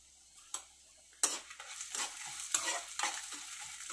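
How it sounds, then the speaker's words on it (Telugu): Coriander seeds and cumin fry in hot oil, a soft steady sizzle broken by scraping stirs and occasional clinks of a spoon against the pan, close up and without speech. "నూనె వేడెక్కాక 1 స్పూను ధనియాలు, 1 స్పూను జీలకర్ర వేసుకొని బాగా వేపేసుకోవాలి"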